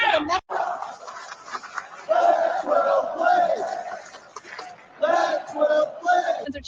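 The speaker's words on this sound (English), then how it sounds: "Thousands of fans are on their feet chanting the same thing over and over." A large stadium crowd at Cleveland Browns Stadium chants the same phrase over and over, a loud, massed roar of voices in rhythmic bursts that fills the space.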